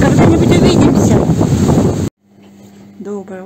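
Very strong wind roars and buffets outdoors near a house, loud, gusty and close, cutting off abruptly into quiet, where a faint voice and a steady hum follow.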